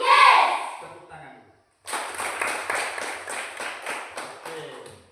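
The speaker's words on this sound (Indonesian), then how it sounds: "Tepuk tangan." A group of children in a classroom clap together after a brief burst of voices, a quick run of sharp, roughly rhythmic claps that fades toward the end.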